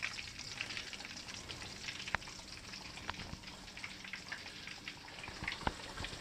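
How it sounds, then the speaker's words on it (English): Catfish pieces frying in hot oil, giving a continuous soft crackling sizzle with scattered sharper pops, fairly quiet and steady with no talking. "And then throw my last piece in there. Ease it on into the oil just the same as before."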